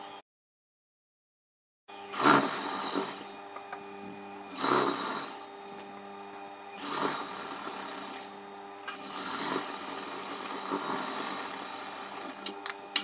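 A sewing machine stitching seams on a churidar top runs in several bursts separated by brief pauses, the motor's whir rising and falling close by with no talking.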